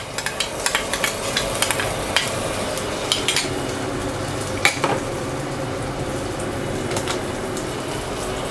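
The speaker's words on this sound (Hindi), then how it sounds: "अब इसके अंदर मैं लहसुन अदरक का जो पेस्ट है उसको ऐड करूँगी।" Garlic-ginger paste fries in about a tablespoon of oil in a pot over medium-low heat. A steady, dense sizzle runs throughout, with light clinks and scrapes of a spoon stirring against the metal early on.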